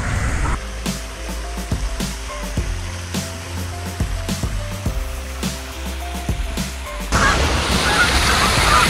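A goose honks repeatedly in a series of loud, nasal calls near a harbor in Victoria, B.C., followed by a burst of rushing wind-like noise at the end.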